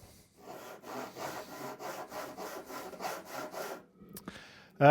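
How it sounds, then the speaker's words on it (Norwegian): Steady back-and-forth strokes of a hand saw cutting through wood, about eight rhythmic rasps in a row, close up, ending with a brief clatter. "Presse saga inntil den styreklossen du har laget her, og så begynner du forsiktig å sage"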